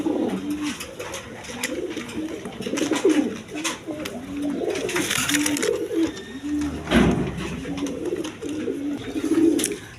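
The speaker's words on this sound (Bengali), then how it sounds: "এইখানে এক পেয়ার বোম্বাই কবুতর আছে" A pair of Bombay pigeons coos steadily and close by, the rolling, throaty calls repeating in a loose rhythm over the whole stretch with faint background noise.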